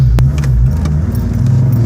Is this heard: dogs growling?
no